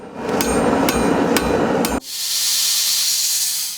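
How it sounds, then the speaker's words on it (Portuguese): Four sharp metallic hammer strikes on steel heated above 1000 degrees ring out at a steady rhythm over a roaring forge, followed by a loud continuous hiss like steam. "É na forja que os materiais começam a ser esculpidos em temperatura acima de 1000 graus"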